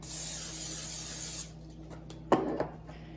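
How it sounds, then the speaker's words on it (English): A steady hiss of aerosol cooking oil spray into an air fryer basket for about a second and a half, close by, followed by a couple of light clatters in a quiet room. "I normally spray some Spam on it"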